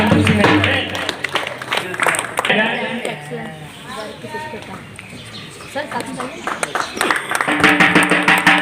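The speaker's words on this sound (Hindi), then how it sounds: "जोरदार ताली बजाते रहे" Audience clapping loudly at an International Women's Day gathering at an ashram, rapid dense applause that swells at the start and again near the end, with a voice talking over it through the middle.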